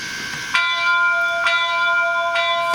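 The bell of a Rapido HO Royal Hudson model locomotive sound system rings three times at an even pace, bright and close, with each clang ringing on between strikes.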